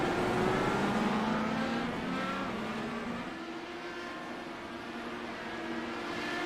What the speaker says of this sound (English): Trying to point and shoot these machines, get them slowed down, stopped, and quickly back on the gas, putting all the horsepower down.